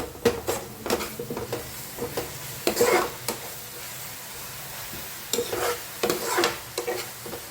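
Green onion curry with turmeric, coriander-cumin powder and salt is stirred in a pan: bursts of spatula scraping and clinks over a soft background sizzle, with a quiet pause midway.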